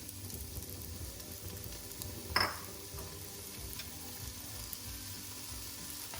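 Onions and seasonings sizzle steadily in hot olive oil for Jamaican cabbage, a soft continuous frying hiss with one brief louder clatter near the middle, no voices.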